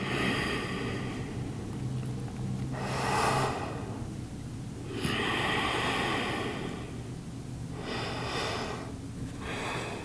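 Slow, deep breaths during a yoga pose: three long airy inhale-exhale swells spread evenly over the stretch, soft and close, with quiet background in between.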